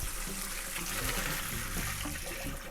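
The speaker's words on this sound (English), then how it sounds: "We get rid of as much water as we can without spilling the sausages in the sink" Hot water poured off a pot of boiled sausages into a kitchen sink, a steady close rushing splash with no pauses and no voices.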